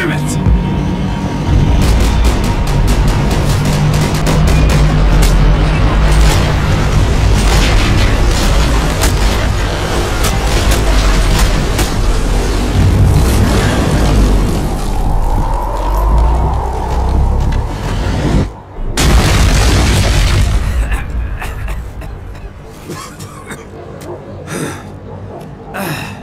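Max Payne 3 combat, dense loud gunfire and booming explosions layered with rumbling, shouting voices calling out over the chaos, a brief sharp drop near the end before scattered shots trail off more faintly.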